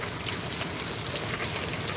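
Heavy rain pours down in Mumbai, a dense, steady roar of water hitting surfaces that fills the whole stretch with no break and no voices.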